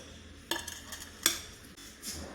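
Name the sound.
plate being picked up to serve ketchup with bajji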